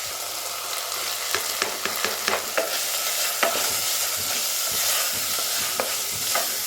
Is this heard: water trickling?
no